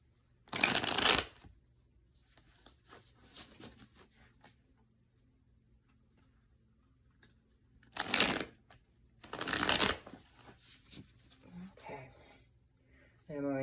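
A tarot deck shuffled in three separate bursts of riffling, each a second or so long, close and crisp, with quiet gaps and soft talk between them.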